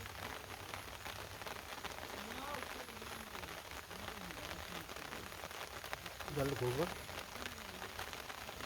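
Rain falls steadily on outdoor surfaces, a faint, even patter throughout, while people talk over it in the background.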